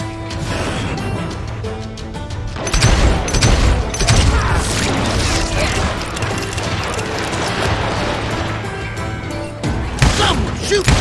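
Gunfire and heavy booms in the Western shooter Call of Juarez: Gunslinger, loud dense volleys bursting in after a calmer opening and rattling on continuously, with speech mixed in.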